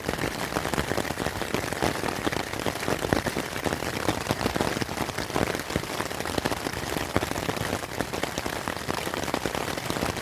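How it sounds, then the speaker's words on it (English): Rain falling on a tarp shelter in the New Zealand bush, a dense, steady, close patter of drops drumming without pause. "Well, here's the rain."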